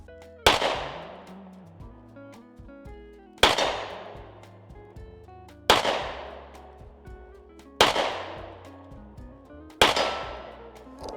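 Five loud, close revolver shots from a Smith & Wesson 442, cocked single action, spaced about two seconds apart. Each crack rings out and tails off before the next, with no talk between them.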